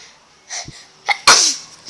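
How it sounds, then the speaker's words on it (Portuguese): A single person sneezes once, a short close sneeze with a small intake of breath just before it. "Desculpa, eu espirrei, galera."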